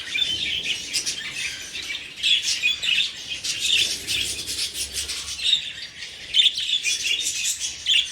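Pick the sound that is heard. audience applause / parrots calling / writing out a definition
parrots calling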